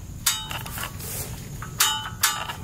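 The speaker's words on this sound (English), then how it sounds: "We use this trusty mallet to actually get this on" A mallet strikes a seat bracket being fitted onto metal bars, producing a few sharp metallic clanks spaced irregularly over a low background rumble, moderately close and without talk.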